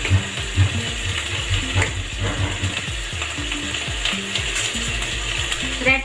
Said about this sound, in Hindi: इसको हम अपने वेजिटेबल्स को हम स्टर फ्राई करेंगे